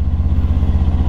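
A Kawasaki Ninja 400 motorcycle idles while warming up on a cold morning in Japan, its engine close and loud with a fast, even pulsing beat.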